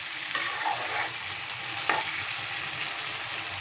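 Taro root and potato curry stirred and fried in a pan, a steady close sizzle with a few scraping stirs of the spoon, no voices.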